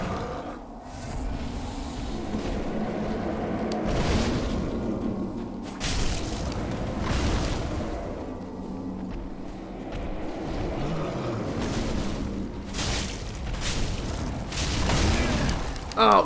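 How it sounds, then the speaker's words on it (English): A boss in Dark Souls 3 unleashes booming explosions amid whooshing attacks and combat effects, several deep blasts spread across the fight, heard under a player's excited talk. "God, the fucking explosion."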